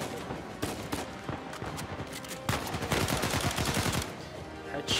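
Gunfire from Uncharted 4 on hard difficulty comes as rapid automatic bursts and single shots, dense and moderately loud, swelling into sustained firing toward the end.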